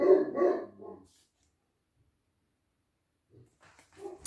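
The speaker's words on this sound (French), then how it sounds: "Oh, mon chien qui s'y met, c'est pas possible." A dog barks in a short burst of several close, loud woofs, then falls silent before a faint yip and soft whimper return near the end.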